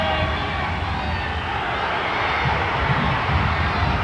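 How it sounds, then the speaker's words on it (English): Crowd at a 1992 high school wrestling dual meet between Great Bridge and Cox, a dense, continuous roar of cheering and shouting that swells slightly toward the end, with voices mixed into the din. "Crowd going crazy now with 23 seconds to go"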